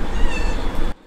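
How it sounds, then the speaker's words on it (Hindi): A pet cat lets out one drawn-out, loud meow close by, a sustained tonal cry that stops sharply, leaving near silence. "मेरी बिल्ली लेजिट भाग के आई म्याऊ बोल के"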